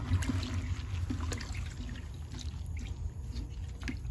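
Water pouring into a container over chopped pineapple peels to make a fermented fruit-waste liquid fertilizer, a steady close trickle and splash running continuously with no talk.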